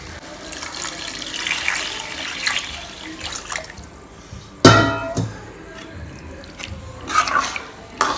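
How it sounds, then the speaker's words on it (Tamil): Water poured from a tap-like stream into a cooking pan while making fish curry, a soft running trickle with a sharp splash near the middle and intermittent dripping after. "இப்போ இது வதங்கினதுக்கு அப்புறம் இதுக்கு தேவையான தண்ணியை ஆட் பண்ணிக்கலாம்"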